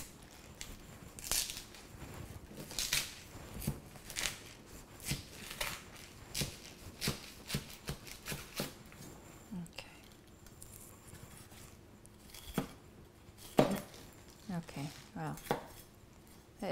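A knife chops through a fresh pineapple and its stem on a cutting board, making repeated crunchy, irregular cuts close by, with a person talking at times between them.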